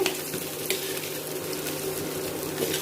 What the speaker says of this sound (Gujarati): ઘીની અંદર ભૂનશું અડધી મિનિટ માટે આ મસાલાને ભૂનવા